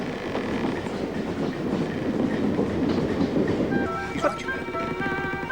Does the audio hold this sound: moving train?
yes